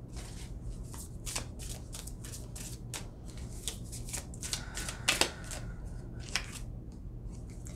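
Someone shuffles a deck of tarot cards up close, giving quick riffling bursts and soft slaps that repeat in an uneven rhythm over a low background hum, with no one talking.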